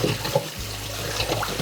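Water sprays from the shower setting of a kitchen faucet, a close, steady hissing rush over a sink while eggs are cooled in cold water, with no talking.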